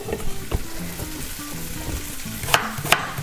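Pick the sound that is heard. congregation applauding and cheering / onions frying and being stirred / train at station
onions frying and being stirred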